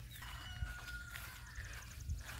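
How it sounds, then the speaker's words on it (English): Roosters crow on a farm where horses are kept, faint and distant over a steady low rumble of background noise, with no one talking. "all the roosters are telling them that we're here"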